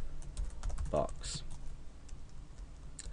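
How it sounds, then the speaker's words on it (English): Computer keyboard typing in quick, close clicks while a man explains coding a PHP search box, his voice running over the keystrokes. "So let's say we just start typing"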